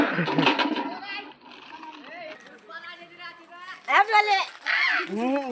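Water splashes during an outdoor Holi celebration, a burst of spray near the start followed by lively, overlapping talk and children's voices that dominate the rest.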